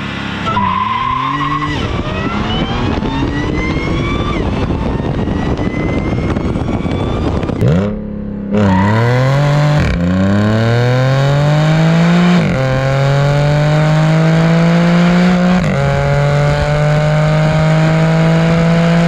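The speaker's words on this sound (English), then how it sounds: "Just rolled up, launched the car, a little bit of hesitation" Audi B8 S4 with an Integrated Engineering Stage 1 tune launching on a quarter-mile run, loud and close, with tire squeal and wheel spin as the engine revs climb through several gear shifts in a long sustained pull.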